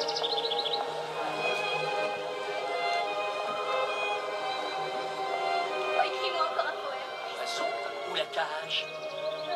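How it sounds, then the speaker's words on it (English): A small bird in the game Bioshock Infinite: Burial at Sea chirps and tweets in short bright calls over a dense musical and ambient game soundscape, with speech-like voices present throughout. "Aren't you a cool little bird?"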